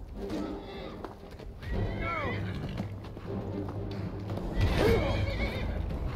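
Horse whinnying and neighing in the Skyrim video game, with a drawn-out call near the middle and another louder whinny toward the end over a steady low game soundscape.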